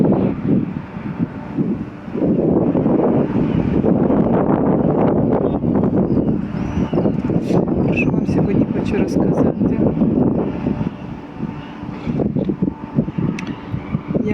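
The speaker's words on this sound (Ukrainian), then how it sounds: "Сьогодні вітряно трохи, можливо, так." Gusty wind buffets the microphone with a constant low rumble, while a person speaks Ukrainian over the noise.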